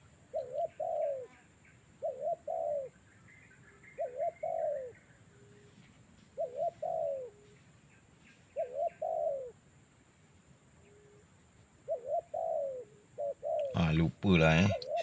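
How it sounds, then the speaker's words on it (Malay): A caged bird sings soft repeated cooing calls in short regular phrases, with faint chirps behind and a brief burst of louder noise near the end. "Burung start bunyi lah"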